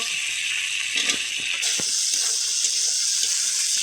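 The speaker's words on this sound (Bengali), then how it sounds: "মশলা যেন পুড়ে না যায় তাই অল্প জল দিয়ে দেবো।" Water is poured into a pan where spice paste and potatoes are frying for a rohu fish and potato curry, a steady pouring, splashing rush with faint clinks, running continuously for a few seconds.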